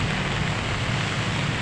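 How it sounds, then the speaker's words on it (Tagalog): Heavy rain pours down during a storm in flooded streets, a steady loud broadband roar with a low rumble underneath, continuous and unbroken throughout, with no voices. "Mga baha, nabigla kasi lakas ng ulan."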